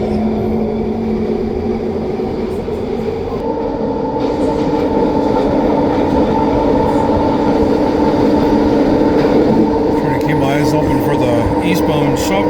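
A SkyTrain runs along its elevated rail line with a loud, continuous, close rumble and rail hiss, and faint squeals toward the end.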